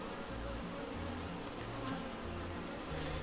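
Honey bees buzz in a steady, dense drone close by at an open hive, with no voices.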